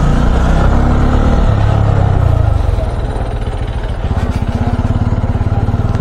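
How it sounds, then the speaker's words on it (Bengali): Stalled road traffic jam with motorcycles and cars on the route from Kolkata toward Santiniketan: close, loud engines idle and rev, settling into a steady rhythmic putter, with no talk. "কতটা জ্যাম লেগে গেছে।"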